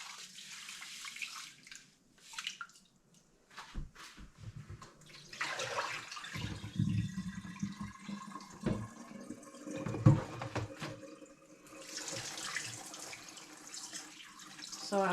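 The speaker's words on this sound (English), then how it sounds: "So I wash my rice" Rice being rinsed by hand in a bowl under a running kitchen tap before steaming, a steady close rush and splash of water with brief pauses and a quieter stretch near the start.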